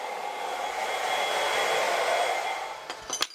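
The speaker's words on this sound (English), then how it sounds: "Once you've heard the vacuum power up fully," A CNC router's vacuum pump spins up into a loud, steady whirring roar that holds, followed by a few sharp clicks and knocks near the end.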